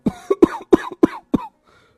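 An old man coughs repeatedly, five or six harsh, chesty coughs in quick succession, close by, then fading into quiet.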